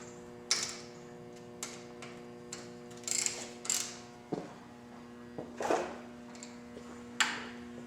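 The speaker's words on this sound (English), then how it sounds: "Now I just tighten the bolts up just a little bit." Mounting bolts for front air ride on a Victory motorcycle being tightened by hand, scattered metallic ratchet clicks and tool taps at an uneven pace, with a steady low electrical hum underneath.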